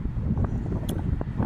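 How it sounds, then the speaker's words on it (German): Gusty wind buffeting the microphone on an elevated spot at Düsseldorf airport, a steady low rumble with uneven surges, alone and close. "hier oben ist gerade ein bisschen windig"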